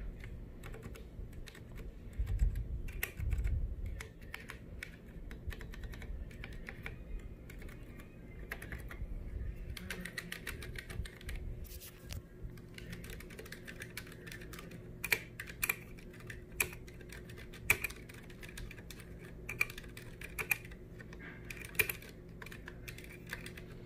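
Typing on a Ducky One 2 Mini keyboard fitted with Cherry MX Red switches, a steady close-up patter of soft keystrokes with occasional sharper, louder clacks standing out in the second half, no voices.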